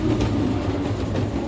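Steady low rumble inside a train carriage, a continuous rolling drone with faint rattles, constant and moderately loud with no talking.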